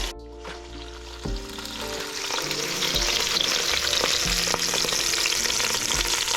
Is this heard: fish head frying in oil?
yes